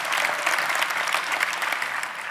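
Crowd applause fills a legislative assembly chamber at the state of New Jersey's organization session, with sustained, bright clapping that holds at a fairly even level and ends with one sharp clap.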